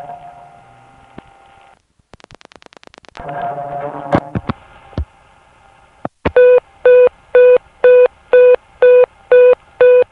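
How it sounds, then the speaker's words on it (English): A tone, a rapid string of dialing clicks and some line noise, then a steady series of loud, evenly spaced electronic beeps repeating about twice per second, a telephone exchange tone typical of Eastern Queens, New York. "when you call 660, the beeping tone is more typical for Eastern Queens"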